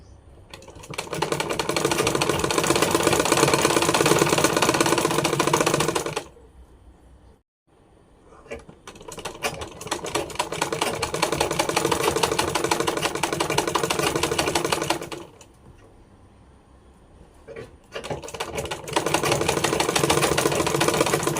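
A sewing machine stitches a pillow cover in long steady bursts of rapid mechanical whirring and needle clatter, stopping briefly between runs, close and without talk.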